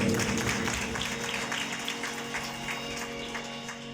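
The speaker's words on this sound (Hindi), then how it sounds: "अपने और मेरे यीशु मसीह के लिए जोरदार ताली बजाएं" A church congregation at a wedding worship service claps in praise of Jesus Christ, a steady moderate wash of many hands filling the room.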